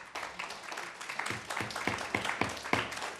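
Scattered applause from a city council meeting audience, a few distinct claps standing out over a rustling background.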